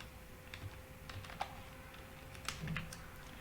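Soft keystrokes on a computer keyboard, a sparse scattering of faint clicks with a couple of slightly firmer taps, heard close over a low steady hum.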